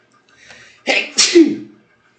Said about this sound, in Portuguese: Só um minutinho, galera, que eu vou espirrar.